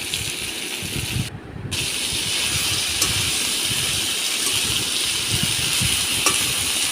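Cumin, ginger and coriander paste with leaves frying in a pan for a prawn curry, a continuous bright sizzle and hiss that drops out briefly near the start, with faint stirring scrapes.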